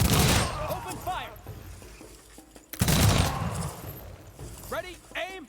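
Ragged rifle volley fire in the Humankind strategy game, two loud bursts of overlapping shots a couple of seconds apart, with shouted commands and chirping whistles in between.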